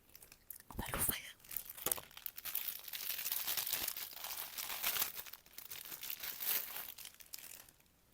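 Crinkly plastic packaging of a Hello Kitty pouch from a SHEIN parcel being torn open and handled up close, a steady run of crumpling and tearing rustles with soft whispery breaths between.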